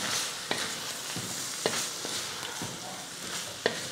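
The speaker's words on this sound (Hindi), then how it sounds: "ये चिकन जो हमने पकाया हुआ था ये इसके अंदर डाल दें।" Cooked chicken is stirred into sauces in a hot pan for chicken macaroni, giving a steady close sizzle punctuated by about five sharp spoon scrapes and taps against the pan.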